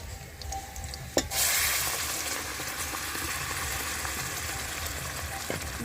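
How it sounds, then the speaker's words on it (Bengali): Tomato paste hits a pan of lightly fried ginger and garlic with a sharp splash at about the one-second mark, then settles into a steady, loud sizzle that holds to the end. "এবার আমি দিয়ে দেবো টমেটোর পেস্টটা।"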